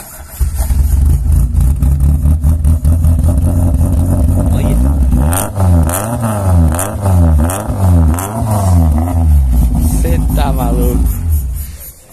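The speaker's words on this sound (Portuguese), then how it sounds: "Acelerou, faz barulho. Então vamos lá, dá a partida pra nós ver lá." A 1987 VW Gol GL with a naturally aspirated engine and a JK 2.5 muffler runs loud and close, climbing through repeated revs and falling back, with excited voices talking over the engine noise.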